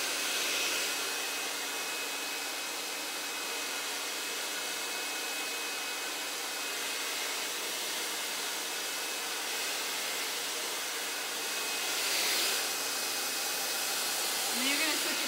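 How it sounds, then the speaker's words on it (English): A blow dryer runs on high heat, a steady loud airy roar and hiss held for about fifteen seconds, swelling slightly near the end, with no talk over it. "And then your blow dryer, always tuck it a little bit so it stays. And make sure it's on high heat for the first one."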